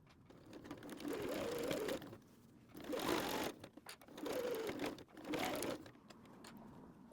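Sewing machine stitching through a thick strap for a water bottle sling, four slow humming runs of stitching with short pauses between them, close and faint, no talk.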